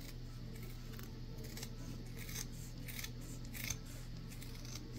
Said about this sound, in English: I'm going to use my Kai scissors and I'm going to trim this piece off